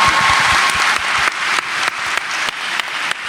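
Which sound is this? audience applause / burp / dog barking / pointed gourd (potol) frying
audience applause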